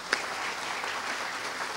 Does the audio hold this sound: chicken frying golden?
no